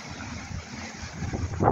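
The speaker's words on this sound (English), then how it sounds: "it's a bit windy" Gusty wind buffets the microphone with a low, rumbling roar that swells louder toward the end, with no speech.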